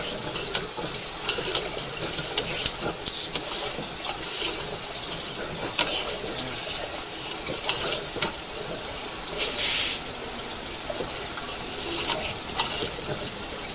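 Steady rushing, hissing flow of water through a backed-up, clogged sewer pipe during a camera inspection, broadband and continuous with a few brief surges, no talk.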